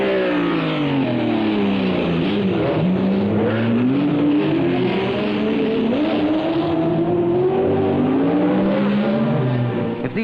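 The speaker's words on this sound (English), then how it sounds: "They're practicing the art of mastering their cars on the track, practicing their gear changes, their braking and acceleration" Racing cars on a track run through gear changes, braking and acceleration. Loud engine notes rise and fall continuously with sweeping pitch changes, producing a sustained, close mechanical drone with some tire noise, from a 1969 driving film.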